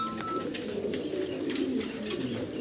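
A pair of Nuremberg lark pigeons at a breeding farm coo nearby in a continuous low burbling, with faint soft chirps flickering above it.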